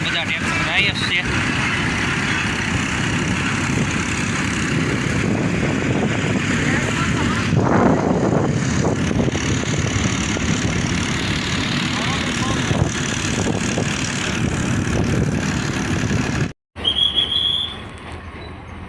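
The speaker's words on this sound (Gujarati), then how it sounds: "જો દોસ્તો આપણી હારો બધા ટ્રેક્ટર જાય જ છે।" Tractors travelling along a rural road toward a market yard, with a steady, loud engine drone and wind rumble throughout, a brief dropout near the end, and a person talking over it.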